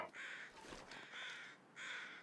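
Crows caw in the survival video game The Long Dark, a series of loud, harsh calls in quick succession with brief gaps, in an otherwise quiet outdoor setting without speech.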